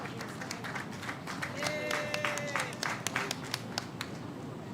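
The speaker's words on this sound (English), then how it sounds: "Let's give some applause for our next beneficiary, Kay Davis." An audience at a housing handover ceremony claps in scattered, uneven bursts at moderate distance, with a few sharp individual claps and some murmured voices underneath.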